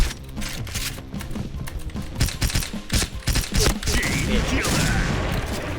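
VSK94 rifle fire in the Point Blank shooter game, with rapid clusters of gunshots and clattering effects, loud and busy, partly under a player's excited talking.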